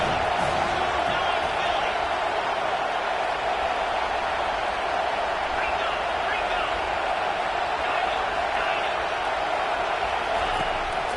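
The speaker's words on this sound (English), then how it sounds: "Man, this crowd really affecting the football game." Home stadium crowd noise in a college football video game, a steady, dense roar of cheering that holds at an even level throughout, with commentary voices running over it.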